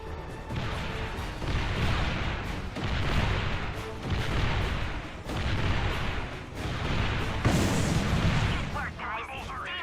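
Ship cannons boom repeatedly in Ratchet and Clank Future: Tools of Destruction, a series of heavy blasts and crashes in roughly one-second bursts, loud and close amid battle noise, with voices speaking over them.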